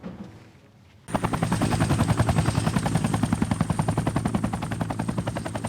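A helicopter bursts in after a moment of quiet, its rotor beating out a loud, fast, steady thumping pulse that continues through to the end.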